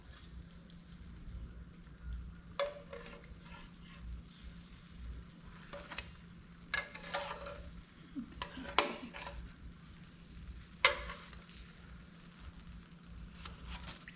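Apple pies fry in hot oil in an electric skillet with a steady, soft sizzle and crackle. Occasional louder pops and spatters break through over fourteen seconds, close and fairly quiet.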